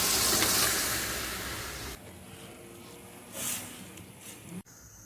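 Boiled kidney beans with their cooking water are poured into hot fried masala for Punjabi rajma, giving a loud burst of sizzling and splashing that quickly subdues into a quieter simmer with a faint clink near the end.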